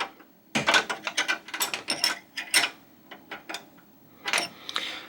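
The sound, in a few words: tightening treadmill drive belt lock nut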